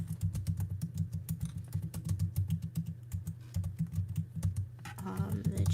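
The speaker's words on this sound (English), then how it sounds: "It's like I can type fast, but when I start typing something new, I have to type so slow." Fast typing on a computer keyboard, a dense stream of close clicking keystrokes in uneven bursts, with a brief voice near the end.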